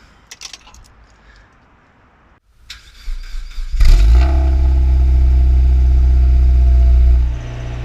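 A Mazda MX5 Miata fitted with a decat exhaust starts for the first time: keys jangle and clink, then the starter cranks and the engine catches into a loud, steady, deep idle close by.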